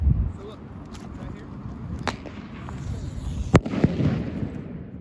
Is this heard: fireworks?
yes